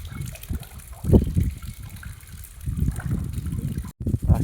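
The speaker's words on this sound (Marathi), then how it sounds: "अशा पद्धतीने आपलं स्प्रिंकलरचं पाणी चालत आहे" Sprinkler irrigation water runs over a chickpea crop in a field, giving a soft, uneven gushing and trickling that swells and fades, with a short dropout near the end.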